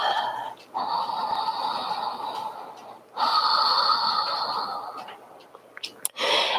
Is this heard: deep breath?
yes